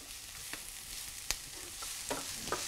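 Onions stir-fry in a pan with a soft continuous sizzle, broken by a few sharp clicks and scrapes of a spatula against the pan, close but fairly quiet.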